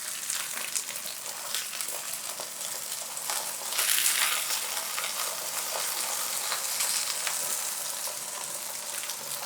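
Blue oyster mushrooms sizzling in a hot pan while being pressed flat, a continuous bright frying hiss that swells briefly midway, close and steady with no talking.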